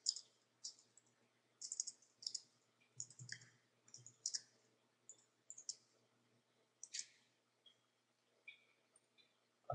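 A computer mouse clicks close and quiet in a steady series of short, crisp clicks, some in quick doubles, with near silence between them.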